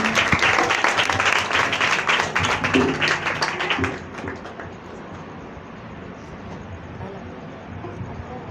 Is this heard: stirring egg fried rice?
no